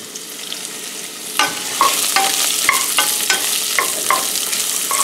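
Onions for French onion soup sizzle loudly as they are tipped into a hot pot, a steady crackling fry with several sharp clinks and scrapes of a utensil stirring through them; no one speaks.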